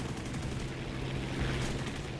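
Rapid 20 mm cannon fire in the War Thunder video game, a dense, continuous rattle of shots heard over the steady roar of the game.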